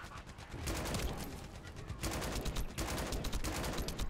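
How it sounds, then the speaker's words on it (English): Rapid gunfire from a ship in The First Descendant video game, dense bursts of shots crackling continuously and loudly for several seconds with a brief lull midway. "who's shooting at me from the ship?"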